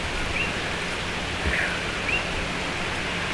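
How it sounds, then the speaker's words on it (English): Steady rain falls in Puna, Hawaii, during a tropical depression, a dense even hiss filling the whole stretch with a few faint bird chirps and a soft thump in the middle. "So, it gets raining over here in Puna like this"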